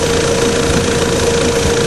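A running GM Vectra engine, the 2.0-litre 8-valve or 2.4-litre 16-valve, idles loud and close with a constant, even rumble and a faint steady tone throughout, with no voices.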